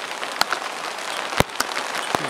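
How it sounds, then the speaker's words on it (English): Mixed hail and rain patter steadily on surfaces outdoors, a soft continuous hiss broken by a few sharper, louder individual impacts, fairly close. "that's hailing pretty good. Kind of mixed hail, more rain now."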